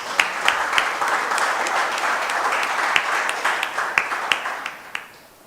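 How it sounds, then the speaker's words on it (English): Audience at a community conversation event in Bethel, Tobago, applauding, a moderately sized crowd clapping with distinct sharp claps standing out, then tapering off near the end. "Give him a round of applause."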